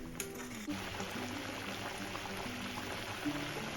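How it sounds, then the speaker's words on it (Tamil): Jaggery syrup for mango pachadi bubbles softly in a pan, a faint, steady simmer with a few small pops and ticks and no talk. "நல்லா கொதிக்கட்டும்."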